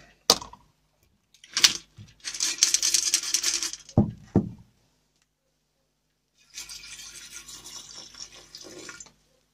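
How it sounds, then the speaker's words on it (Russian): Water is poured into a container of electronic scrap, bolts and parts, a rushing splash in two longer bursts, with clinks and knocks of handling in between and silence around them. "Итак, заливаю водой."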